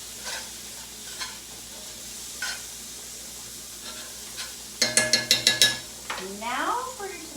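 Food seasoned with Italian seasoning is stirred in a frying pan: soft sizzling with occasional spoon scrapes, then a quick run of six sharp metallic clinks and a rising squeak near the end.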